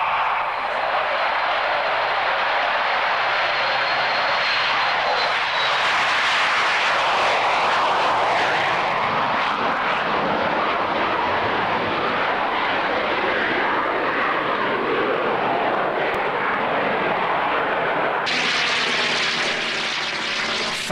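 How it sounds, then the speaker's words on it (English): A Buccaneer jet with twin Rolls-Royce Spey engines roars loudly and continuously at an airshow, a dense broadband rush that shifts in tone as it passes, with a brighter surge near the end. "Buccaneer sounds like he's rolling, a lot of steam coming from the right."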